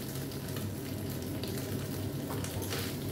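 Dried kachki fish frying in a pan makes a steady, dense sizzle close up, continuous throughout with no speech.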